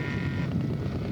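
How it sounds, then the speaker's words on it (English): Steady low wind rumble across the microphone at an outdoor scale model aircraft show, brief and moderately loud, with no other clear sounds. "A little windy for Jack."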